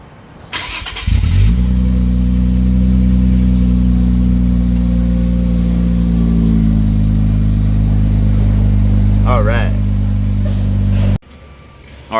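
An Infiniti Q50 Red Sport with the 3.0-litre twin-turbo VR30 engine and Stillen axle-back exhaust starts with a loud crank and flare, then settles into a deep, steady, droning idle that slowly eases down before cutting off.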